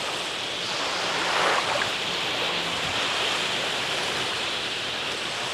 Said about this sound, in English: The tide is coming in, and as the water rolls in, so do the shorebirds.